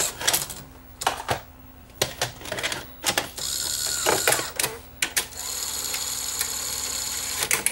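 A Sony SLHF1000 Betamax video tape recorder with a seized head drum ejects a tape: a run of sharp mechanical clicks and clunks, then a steady motor whir as the mechanism moves, close and fairly quiet.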